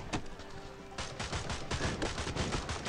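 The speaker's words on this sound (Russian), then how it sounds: "А где боеголовка, если он строчит, как из автомата обычного?" Rapid automatic-rifle-style gunfire in Swamp Attack 2, a dense stream of loud, close shots lasting the whole stretch with no talk.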